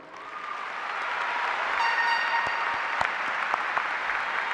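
An audience at a Logan County High School graduation ceremony applauds in a dense, sustained wash of clapping that swells and holds, with a brief whistle-like tone partway through.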